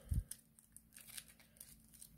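A deck of Arkham Horror board game cards is shuffled and cut on a tabletop, giving a soft thump followed by quiet, rapid riffling and flicking clicks, close and faint.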